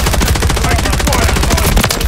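Dense, continuous automatic gunfire in Call of Duty: Modern Warfare III multiplayer, a rapid unbroken rattle of shots filling the whole moment, loud and close.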